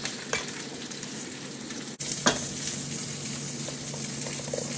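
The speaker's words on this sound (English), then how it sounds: "We're putting the green sauce in there. And kind of little at a time as we mix it." Boiled pasta being stirred with green sauce in a pan for Peruvian tallarines verdes, a steady close sizzle and wet scraping with a sharp clink near the middle, no talk.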